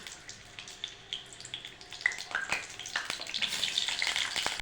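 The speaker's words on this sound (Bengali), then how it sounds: "আলুগুলো আমি ভেজে নেব তেলে" Potatoes frying in hot oil in a home kitchen, a steady crackling sizzle with scattered pops and clinks that builds louder and busier toward the end, close by with no talk.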